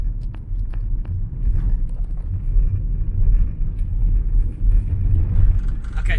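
A car drives along a park road in South Africa toward the gate of MalaMala, with a steady engine rumble and road noise heard from inside the vehicle, continuous and fairly loud.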